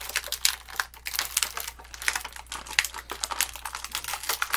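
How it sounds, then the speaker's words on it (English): Plastic packaging is pulled out of a toy box with dense, close crinkling and crackling in quick irregular bursts, continuing throughout without pause. "I'm taking the plastic out of the box."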